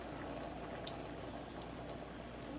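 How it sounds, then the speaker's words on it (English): Gravy bubbles on a stovetop set to high heat in a pan, a faint, steady simmer with soft pops and a few brief sharper clicks, no one speaking. "so the gravy is boiling, and even though I'm not mixing it, we will still have gravy"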